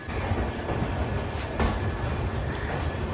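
The Akal Takht Express train runs out of Kolkata, a steady rumbling roll of wheels on rails heard from inside, with a faint rhythmic clatter and no talking.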